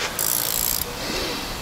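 Ratchet wrench working on the clutch of a Trans Am being prepared for a twin-disk clutch install, giving a short bright clicking burst of under a second, close and fairly loud with no talk over it.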